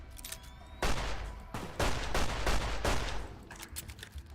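Gunfire in Fallout New Vegas, with several loud, rapid bursts of shots in close succession, each cracking sharply over a steady game background and then tapering off into quieter ambience.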